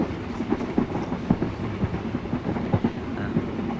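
A train rumbles along steadily with a rhythmic clickety-clack of wheels over rail joints, heard from inside the carriage.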